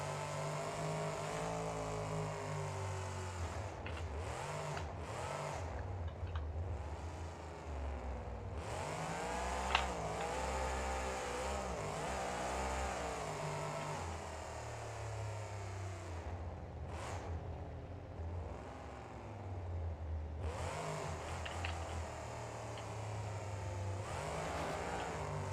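Monster truck engines rev loudly during a freestyle run, with repeated rising and falling throttle swells, brief drops in between, and a sharp bang midway.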